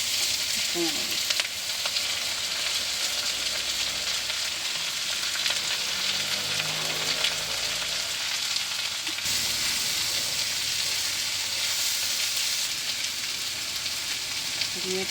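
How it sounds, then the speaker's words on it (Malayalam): Chopped green beans and onion hit a hot pan with dried red chilies for a Kerala dish, giving a loud, continuous close sizzle with occasional stirring scrapes throughout. "അരിഞ്ഞു വെച്ചിരിക്കുന്ന പയറും സവാള ഇട്ട് കൊടുക്കാം"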